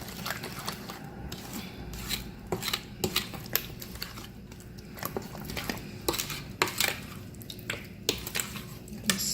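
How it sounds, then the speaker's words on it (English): Sugar being stirred into a peach cobbler mixture in a bowl, giving a steady run of soft wet squishes and light utensil clinks against the bowl, close by and moderately quiet, with no talking. "And we're going to give this a mix, a stir"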